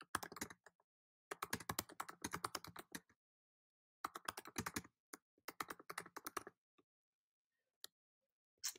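Fast clattering keystrokes on a computer keyboard, heard close in several runs of steady typing with short pauses, ending in a few isolated taps; no voices.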